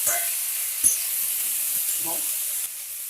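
Mixed vegetables fry with tomato and slit green chillies in a pan, giving a steady, close sizzle throughout with a few soft stirring knocks.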